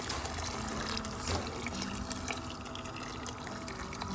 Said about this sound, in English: So the next thing to do is to pour hot water.